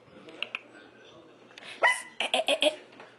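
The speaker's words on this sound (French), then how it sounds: "le petit chien ici, il arrête pas de chipper" A small dog named Maggie yaps indoors in a bedroom, a few faint yips early then a close burst of sharp, rapid barks near the end, with a person's voice mixed in.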